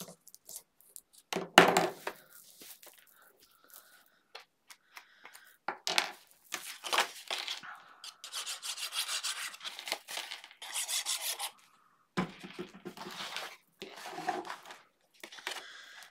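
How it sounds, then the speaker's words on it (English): A scoring tool is drawn across paper to score a belly band, giving soft, close rubbing and scraping strokes in short bursts separated by quiet pauses. "Score 1/2 inch on each ends to make the belly band."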